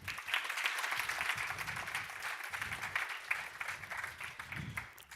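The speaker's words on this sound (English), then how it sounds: "let's give all of the teams an applause first" An audience at an entrepreneurship pitch competition applauding the competing teams, a sustained wash of clapping from many hands at moderate loudness, with a few voices faintly underneath.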